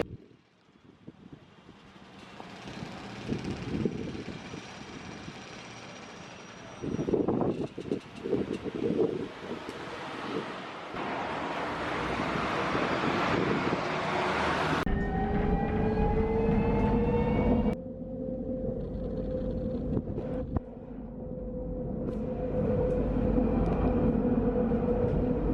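Tram ride in Cuenca, Ecuador: a loud, continuous rumble of the moving car with rising whines and rattles, plus a sustained tonal hum as it travels, no talk.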